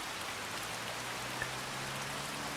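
Rain in Farming Simulator 25 falls in a steady, even hiss of drops on surfaces, with a faint low hum underneath and no voices.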